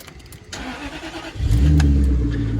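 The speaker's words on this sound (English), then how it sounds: "let's start her up." A Jaguar XKR convertible's supercharged 4.0 V8 cranks with a short whir, then catches and fires into a deep, loud rumbling idle up close, with no voices over it.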